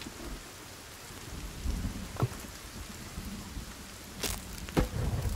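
Rain and thunder in the survival video game Sons of the Forest: a steady patter of rainfall with low rumbles swelling up, and a few sharp cracks of thunder breaking through partway and near the end, with no talk.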